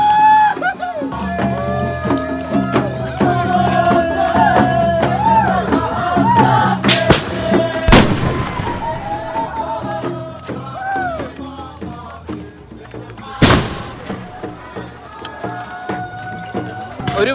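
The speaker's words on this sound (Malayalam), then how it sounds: "എല്ലാവരുടെയിലും ഗണ്ണുണ്ട്, അവർ തോന്നുന്ന പോലെ ഇതേ കണ്ടോ, അവർക്ക് തോന്നുന്ന സ്ഥലത്തേക്ക് എടുത്ത് വെടിവെക്കും." Gunshots go off at the 2021 Hornbill Festival in Nagaland: two sharp, loud bangs about five seconds apart cut through a busy mix of crowd voices and tonal chanting or music.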